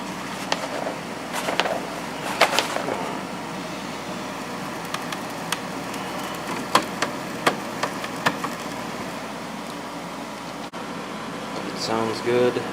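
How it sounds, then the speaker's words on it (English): A window air conditioner's fan runs on its high setting with a loud, steady whooshing hum, scattered clicks and knocks, and voices breaking in at times. "this one gets kind of loud on high"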